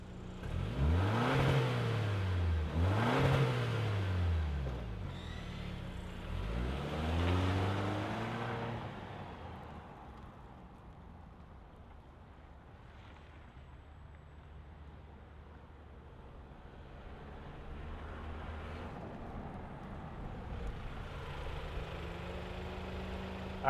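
2025 Toyota 4Runner Limited, two-wheel drive, starting up with a couple of rising engine revs at the start, then settling into a quieter, steady idle that continues to the end.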